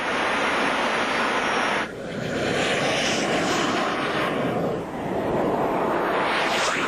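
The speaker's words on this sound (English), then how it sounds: "The airplane's fully aerobatic" A BD5J, a tiny single-seat jet plane, flies aerobatic passes overhead. It makes a loud, steady jet roar that swells and fades as it sweeps by twice, with no talk.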